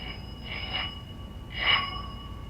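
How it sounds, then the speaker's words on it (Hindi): A telephone rings twice in a film scene, each ring a short, bright electronic trill separated by a pause, fairly soft and with no voices. "माफ करना, मेरा फोन आया है।"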